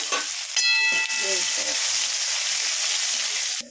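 Cumin, curry leaves, ginger and garlic fry in hot oil for a munja pottu curry, giving a loud, steady sizzle and hiss close up, with a brief bright crackle near the start and no talking.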